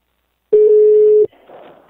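A steady electronic telephone tone sounds loud and alone for under a second, then stops, followed by a faint muffled murmur as the line connects.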